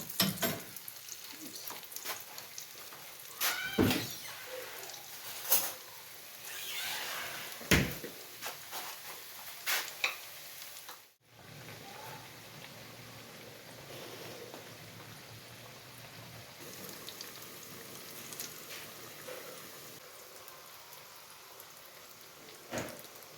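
Aloo matar samosas frying in a pan of hot oil give a steady, close crackling sizzle with sharp spattering pops scattered throughout, and no voices.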